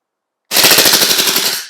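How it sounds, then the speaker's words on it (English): A Cybergun Desert Eagle .50AE airsoft pistol fires a rapid, continuous string of rounds, loud and close, lasting just over a second before tapering off as it runs dry; no talking. "Let's see how many rounds can we fire."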